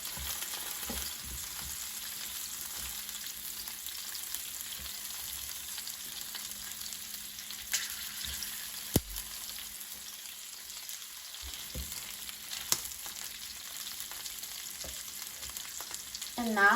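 Chicken drumsticks pan-fry in a skillet, browning on their remaining side, giving a steady close sizzle with occasional spatula clinks and scrapes, and a couple of brief spoken words at the start.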